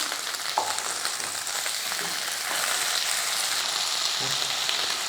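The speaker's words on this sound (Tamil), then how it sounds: "இதெல்லாம் சேர்த்து வதக்கிக்குவோம். இப்போ வெங்காயத்து கூட நம்ம தக்காளி சேர்த்துடலாம்." Onions, garlic and tomato sauté in a pan for a Tamil kodo millet and plantain curry meal, giving a steady close sizzle with faint scrapes of stirring throughout and no talking.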